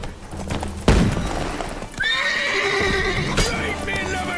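In The Witcher 3, a horse lets out a loud, shrill whinny and its hooves clop along, while a short impact thuds and the game's ambience plays underneath.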